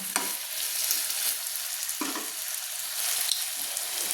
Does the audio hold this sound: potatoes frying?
yes